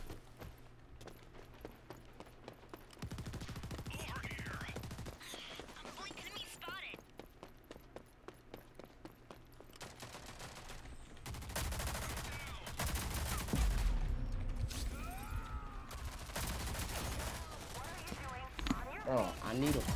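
Rapid gunfire and bursts of automatic weapons in the shooter game Rogue Company, dense and continuous, with footsteps mixed in and someone talking over the action.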